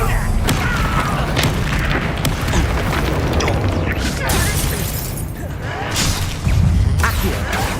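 Bombarda and Confringo spells go off in Hogwarts Legacy as loud booming blasts with crashing, shattering debris and whooshes, packed close together over several seconds, with voices calling out between the impacts.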